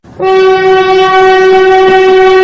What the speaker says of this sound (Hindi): उठ रौनक, देख ट्रेन आ गई